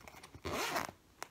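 A zipper on a baby hospital bag is pulled in one quick, close rasping stroke lasting about half a second, preceded and followed by faint handling clicks.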